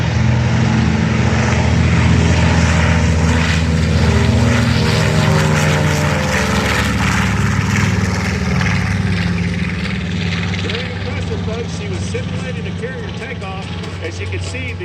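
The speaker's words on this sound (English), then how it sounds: "Beth Ann Jenkins on takeoff roll." A warbird propeller airplane roars through its takeoff roll at the Midland airshow, a loud, gritty engine drone that swells and then slowly recedes, with crowd voices mixed underneath.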